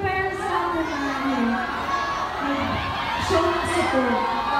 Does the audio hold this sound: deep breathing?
no